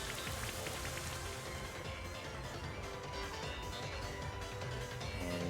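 Rain Dance move effect in the Pokemon Sword and Shield video game: a steady, even hiss of falling rain that holds at a low level throughout, with no voices.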